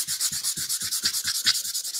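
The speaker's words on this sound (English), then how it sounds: "I'm using 220 sandpaper" A wooden French Provincial milking stool finished in milk paint is hand-sanded with 220-grit sandpaper: brisk, even back-and-forth scrubbing strokes, about four per second, close and steady with no voices.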